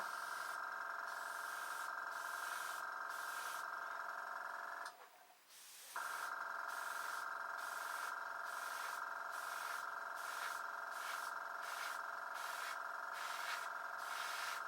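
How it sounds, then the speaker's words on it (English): Airbrush compressor running while model paint is sprayed on an Airfix 1/24 Hawker Typhoon Mk Ib kit: a steady, close mechanical hum with rhythmic pulsing, briefly cutting out for about a second midway before resuming. "So let's turn the compressor back on."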